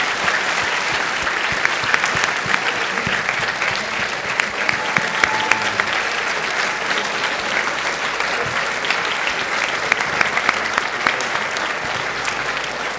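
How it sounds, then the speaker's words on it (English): A sustained round of audience applause at a Holocaust awareness event for a speaker named Zoltan, dense and even clapping that carries on at steady loudness for a long stretch. "Let's give Zoltan a round of applause."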